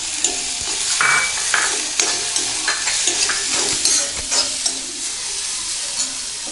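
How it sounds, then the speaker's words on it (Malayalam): Chopped green chillies sauté in a hot pan for a Kerala-style egg thoran, with a steady sizzle of frying and repeated stirring scrapes and clinks of the spoon, close and continuous, with no voices. "എന്നിട്ട് നന്നായി വഴറ്റുക"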